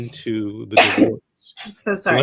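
One sharp sneeze bursts out in the middle of a family law discussion, loud and close, with people talking just before and after it.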